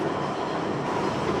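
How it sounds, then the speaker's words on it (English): A London Underground Central Line train bound for Epping rumbles and rattles loudly and steadily from close by, a dense roar of carriage noise with no talking. "This is Central Line train to Epping."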